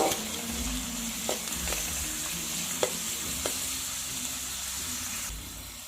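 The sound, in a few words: stirring and frying mushroom masala with curry leaves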